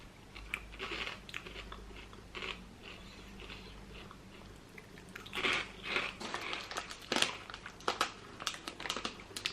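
Crunchy prawn cocktail flavoured crackers being eaten up close, a run of crisp bites and chewing crunches that starts sparse and quiet, then grows louder and more frequent toward the end.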